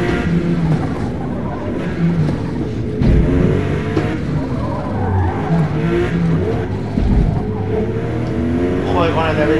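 A race car in Forza Motosport at Virginia International Raceway roars and skids with squealing tires, loud and continuous under engine revving, while someone talks over the game sound.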